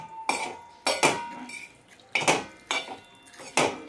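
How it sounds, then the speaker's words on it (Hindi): A spoon scrapes and clanks against a pan about six times while stirring okra fry with tomato juice and spices, sharp close metallic strokes with short quiet gaps between. "अब थोड़ा सा इसको मिक्स कर लेंगे, जो सारा मसाला जो है इसके अंदर आ जाएगा"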